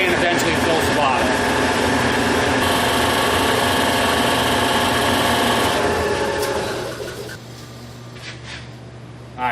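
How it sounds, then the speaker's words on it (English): An air compressor runs loud and steady, filling SCBA storage cylinders for a fire district, its constant mechanical drone easing down near the end. "you can go away while the compressor works up the pressure and eventually fills the bottle"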